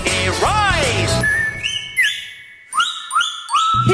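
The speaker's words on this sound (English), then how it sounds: "He gets a little whistle and his reindeer rise." Several short, bright whistle notes rise and swoop in a quick sequence after a stretch of sung or spoken voice, each tone sliding upward, clear and close in a children's Christmas show setting.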